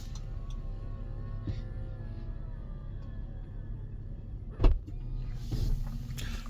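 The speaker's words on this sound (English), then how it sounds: "Let's close that power lift gate." The power liftgate on a 2025 Honda Odyssey Elite hums steadily as its motor closes the gate, ending in a single firm latching thud near the end, close and otherwise quiet.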